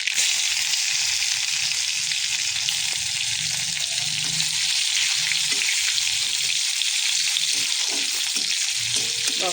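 Cumin, mustard seeds and chili fry in hot oil with a constant, close sizzle and scattered small pops, loud and unbroken, with no voices.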